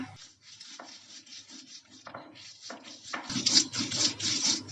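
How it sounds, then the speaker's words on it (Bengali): Chili and salt being ground on a stone slab (pata), a soft repetitive rubbing and scraping of stone on stone, quiet and close, with no talk. "প্রথমে আমি মরিচটা বেটে নিব এর জন্য লবণ দিয়ে নিলাম"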